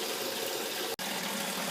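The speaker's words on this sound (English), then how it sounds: "So we can see the water coming over the other side here" Water spills steadily over the overflow into the media area of a large freshwater sump, a continuous close rushing flow broken only by a single brief dropout near the middle.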